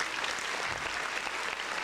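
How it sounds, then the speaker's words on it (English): Audience applause breaks out during a comedy podcast episode, a steady, dense burst of clapping lasting a couple of seconds. "Round of applause."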